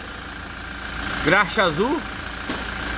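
A Toyota Hilux engine, freshly fitted with a new gasket and filter, idles steadily while warming up, a low continuous hum running beneath someone talking close by.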